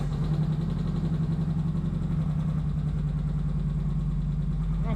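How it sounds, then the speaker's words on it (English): An Indian Challenger motorcycle engine idles after a cold start, with a steady, loud, low throb that holds even for the whole stretch and has no talk over it. "see if we can get a nice cold start out of this thing"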